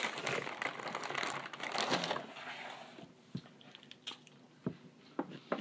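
Crackers being crunched and chewed close to the mic, a dense crackling burst for the first couple of seconds, then scattered sharper bites and crunches, with no talk.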